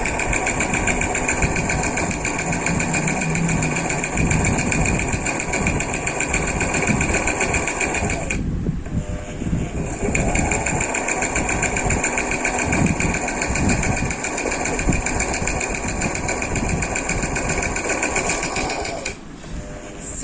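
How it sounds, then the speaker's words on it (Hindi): A tailor's sewing machine runs in a long steady whirring chatter, loud and close, pausing briefly twice before starting again, with no talk. "जो दर्जी था ना, वो एक दिन सिलाई कर रहा था।"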